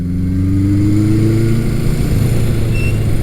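A 1975 Honda CB550 Four Super Sport, a 550 inline four, pulls from low revs with a loud, close, steady engine drone whose pitch rises slightly and then holds.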